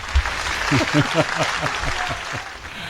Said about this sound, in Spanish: Pon el aplausómetro.